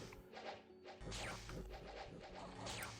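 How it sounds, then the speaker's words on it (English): Lightning Spear spell effect from the strategy game Dominions 5: a quick zapping crack and whoosh among battle clashes, short and fairly faint, with no talk. "That little chew sound you're hearing is the Lightning Spear."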